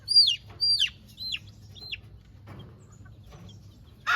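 Young chickens, including a dark straight-combed rooster, giving a series of short, high chirping cheeps close by, four in quick succession, then a pause and another at the end.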